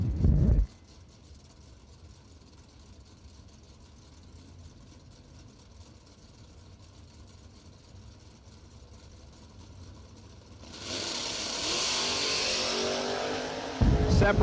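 At a drag strip bracket race, an S10 and a Chevy II launch from the line, their engines rising into a loud roar that builds and holds near the end, with an announcer talking over the track noise.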